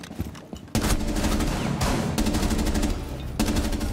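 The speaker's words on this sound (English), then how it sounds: "That was an XM shotgun." XM shotgun in Rainbow Six Siege firing in a rapid burst of loud sharp blasts, then further repeated shots after a short pause, close and dominant.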